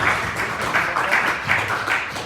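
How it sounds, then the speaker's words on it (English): Audience applause for a performer at a live Wednesday night ceilidh at a college, a steady dense wash of clapping filling the room for a couple of seconds. "let's put a round of applause for Mike"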